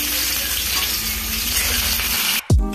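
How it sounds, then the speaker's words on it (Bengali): Onion and garlic fry in hot oil in a kadai, a loud steady sizzle heard up close, broken near the end by a brief knock and a short clatter. "পেঁয়াজটা হালকা ভাজা হয়ে গেছে"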